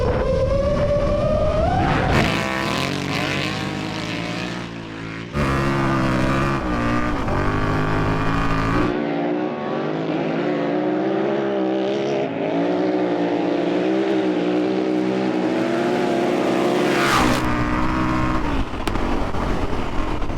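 Motorcycles, a KTM 950 Adventure and an Indian FTR, roar in an off-road drag race, engines revving hard and climbing through gears, loud and close, then dropping away and surging again.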